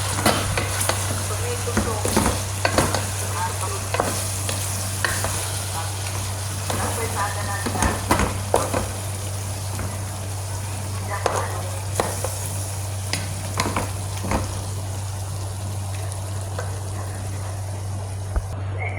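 Chicken pieces in yogurt sizzle steadily in a hot pan, a continuous crackling fry with scattered pops and stirring scrapes, close and fairly loud, with a low steady hum from the stove underneath.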